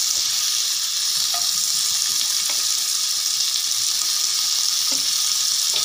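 Chopped capsicum and onion fry in a pan for a chicken burger filling, giving a steady, even sizzle throughout with a few soft stirring clicks and no talking.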